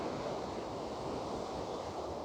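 Sea waves wash steadily onto a shore beside a city, a continuous broad surf roar with some wind noise and no clear breaks between swells.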